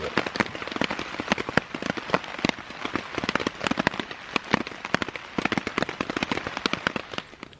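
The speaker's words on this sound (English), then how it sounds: "We had a night full of rain and more rain." Heavy rain pelting a jungle hammock camp at night, dense irregular drops tapping sharply and loudly on the tarp, continuous and close.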